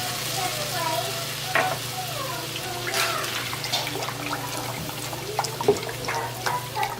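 Vegetable broth going into hot tomato paste and flour for vegan enchilada sauce, a loud steady sizzle and bubbling with scraping stirs and a few clinks, while someone talks faintly in the background.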